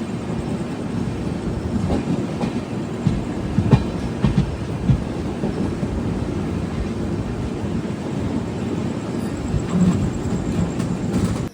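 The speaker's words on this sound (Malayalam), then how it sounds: "വളരെ പയ്യാണ് ട്രെയിൻ വന്ന് കയറിയത്." The Madras Mail express, train 12624, pulling slowly into Angamaly station during track work: a continuous heavy rumble of rolling stock with scattered wheel clacks and thumps, steady and fairly close throughout.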